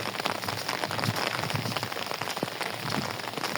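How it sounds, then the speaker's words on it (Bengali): Heavy rain pours down in a steady, dense hiss of drops drumming on surfaces, continuous and close, with no voices. "অনেক বৃষ্টি।"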